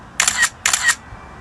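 Two crisp camera shutter clicks sound close and loud in quick succession, each a short bright mechanical snap, on an outdoor outing in a park.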